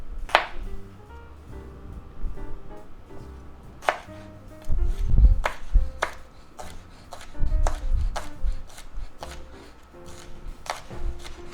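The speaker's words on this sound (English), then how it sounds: "Now we'll just cut up some green onion." Green onions are chopped with a knife on a cutting board, a series of sharp close taps that start sparse and become a fairly steady rhythm, with soft handling thumps between them and no talking.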